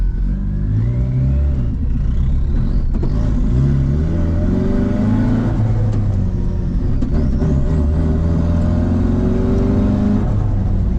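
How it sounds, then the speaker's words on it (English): Turbocharged car engine revving hard on its first test drive, a loud, continuous deep drone with rising and falling pitch sweeps as it accelerates, heard close with no talking. "That turbo sounds so sick."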